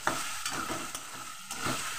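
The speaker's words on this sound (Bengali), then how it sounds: "এবার আমি দিয়ে দেবো আলুগুলো। এবার এগুলো আমি খুব ভালো করে একটু ভেজে নেব।" Potatoes frying in a pan sizzle steadily while a utensil stirs and scrapes them in a few distinct strokes, close and moderately loud, with no talking.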